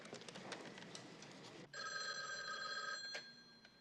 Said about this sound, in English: I better call Mrs. Dupree.